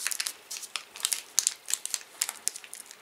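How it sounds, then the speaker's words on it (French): Wrapping paper on an advent calendar package crinkles and tears in quick irregular bursts, close and crisp, with brief pauses between rustles and no voices. "je vais ouvrir le 15e paquet"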